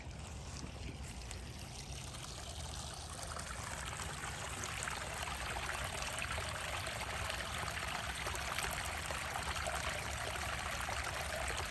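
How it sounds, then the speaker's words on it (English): Steady trickling and splashing water from a pond spillover runs continuously nearby, a constant gurgling flow with no voices. "This is our spillover from the pond."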